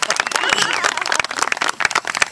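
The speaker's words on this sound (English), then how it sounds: "It's okay to applaud for that." Audience at a Castle Hills TEA Party gathering breaking into applause, a dense patter of many hands clapping with crowd voices mixed in, moderately loud and steady throughout.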